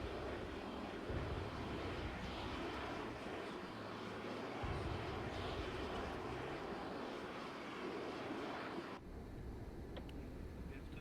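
A fighter plane's engine in a video game gives a low, steady, rumbling drone at quiet volume, with slight shifts in texture partway through.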